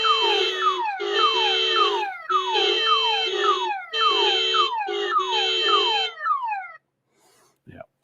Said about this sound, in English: Now these alarms are never going to stop!